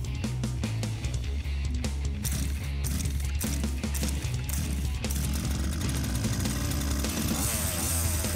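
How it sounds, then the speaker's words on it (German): The Zenoah petrol engine of a 1:6 scale 4WD RC Beetle model car runs with a buzzing, rattling two-stroke drone, loud and close, holding steady and then rising in a busier burst toward the end. "Typisch für Zenoa springt der Motor schon nach wenigen Zügen zuverlässig an und läuft sauber."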